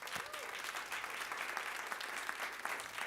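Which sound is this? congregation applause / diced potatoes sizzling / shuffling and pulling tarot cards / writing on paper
congregation applause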